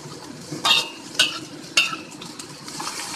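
Spinach wilting in a pan for duck adobo sizzles with a low steady fry, broken by three sharp clinks of a utensil against the pan spaced about half a second apart, then a softer stir.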